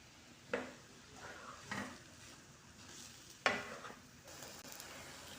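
Minced meat cooks in a pan for sambusa, a low steady sizzle broken by several sharp scrapes and knocks of a utensil against the pan.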